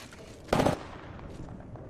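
A short, loud burst of rapid gunfire from the battle royale video game Apex Legends, lasting about a quarter second over a steady low background hum, with no talking.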